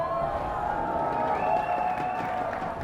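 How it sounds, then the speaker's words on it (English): Crowd cheering and applauding at a live esports event in Las Vegas, a sustained roar of many voices and clapping that swells briefly partway through. "Let's hear some crowd noise for them."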